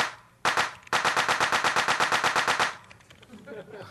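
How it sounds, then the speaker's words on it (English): Lo-fi tracker-song drum fill: a rapid, even run of about twenty punchy snare-like hits, loud and close, starting after two quick stabs and ending in a quieter, sparse tail. "we need the crappy drum sort of fill before we bring back crappy sounds"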